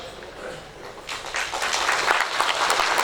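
Applause breaks out from an audience at a university research week opening session, rising after a quieter moment into steady, sustained clapping across the hall.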